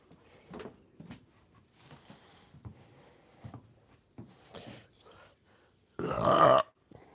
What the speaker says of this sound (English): If you get a good burp like that, that means it's good, right?